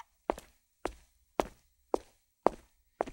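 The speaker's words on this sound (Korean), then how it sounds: "풋스텝입니다, 이제." Library footsteps recorded as a sound effect land in an even, measured walking rhythm, six crisp close steps about half a second apart on a hard surface with silence between them and no voices.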